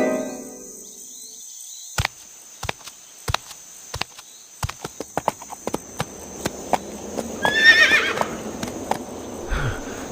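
A sound-effect horse trots with sharp, evenly spaced hoof clip-clops that speed up, then gives a loud whinny near the end, in a children's storytime tale from India.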